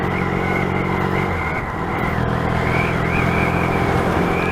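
Yamaha XS650 motorcycle engine running steadily under way during a short ride, a loud, continuous droning rumble with slight pitch rises and falls, close and alone, with wind noise over it.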